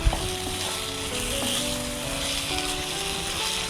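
Spice powders are stirred into hariyali chicken in a hot pan, giving a steady sizzle and frying hiss with soft scraping from the stirring. No voices are heard.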